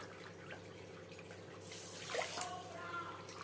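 Water splashes and trickles into a pan over a steady low hum, a short pour rising midway and then continuing softly.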